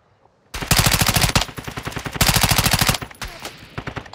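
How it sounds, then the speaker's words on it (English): Loud bursts of automatic machine gun fire in the Call of Duty DMZ shooter game, rapid rattling volleys repeated several times with brief pauses between them, no talk over it. "They're shooting at you right now."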